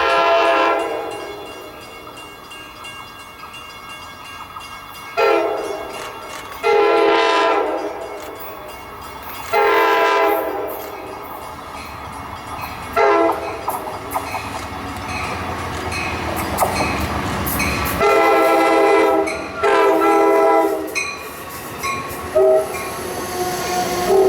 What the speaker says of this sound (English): here is Amtrak 476, also making a station stop at Windsor